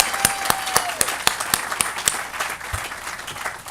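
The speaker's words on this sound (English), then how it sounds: "Let's give one more round of applause to Christy Brown for her amazing work." A press-conference crowd applauds Christy Brown, individual claps standing out sharply at a steady rhythm over a softer wash of clapping, fairly close and moderately loud.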